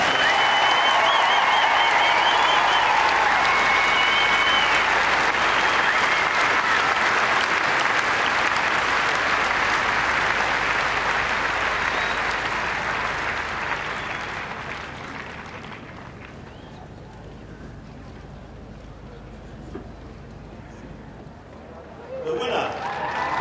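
A big outdoor crowd at an equestrian eventing competition applauds the horses and riders, a loud sustained roar of clapping that fades after about fifteen seconds to a quieter murmur before a brief burst returns near the end.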